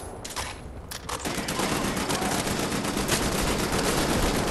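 Sustained, dense automatic gunfire in Wolfenstein: The New Order, loud and close, starting with a few scattered shots and then building into a continuous, heavy barrage.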